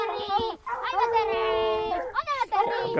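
Hunting dog on a wild boar trail gives repeated yelping, whining barks in bursts, close and loud, over someone talking.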